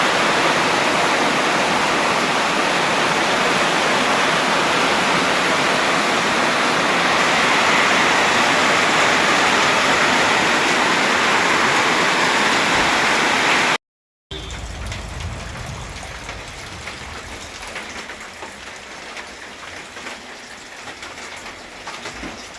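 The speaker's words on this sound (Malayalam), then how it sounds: "ഫുള്ള് രാവിലെ നല്ല മഴ" Steady, dense roar of heavy morning rain pouring down, loud and continuous, then a brief gap before a quieter, softer patter with a low rumble.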